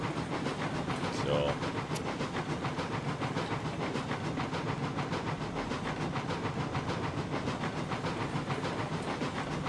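Steady broadband steam hiss from a Cooke 2-8-0 Consolidation locomotive hauling raw iron in Railroads Online, continuous and fairly loud throughout with a brief whistle-like burst early on.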